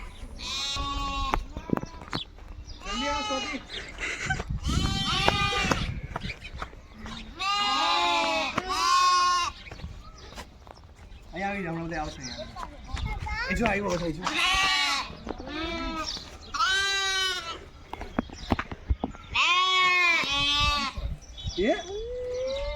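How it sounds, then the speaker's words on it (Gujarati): A flock of sheep and goats returning home in a village bleat repeatedly, many overlapping calls near and farther off, with a person talking among them. "અત્યારે ઘેટા બકરા આવી રહ્યા છે ને હવે એમના ઘરે જશે."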